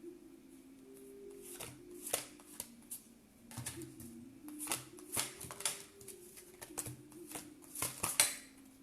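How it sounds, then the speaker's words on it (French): Oracle cards drawn and handled on a table during a reading, with soft clicks, slaps and shuffling taps coming in irregular bursts over a low steady hum, close and fairly quiet. "je vais tirer 2 autres cartes"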